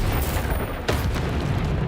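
A Bombarda spell goes off in Hogwarts Legacy, a deep rumbling blast with a sharp crack just before the one-second mark, set against a continuous low roar of game ambience.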